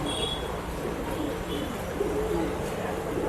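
A male Rekdar pigeon coos in a pet shop, soft repeated throaty calls over a constant background hum, with faint chirps from other birds nearby.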